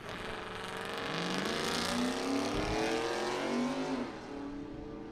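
Drag racing cars, an 07 Chevrolet Trailblazer and a 95 Camaro, roar loudly down the strip in a bracket race, engines revving with rising pitch and a brief shift partway through, steady and close.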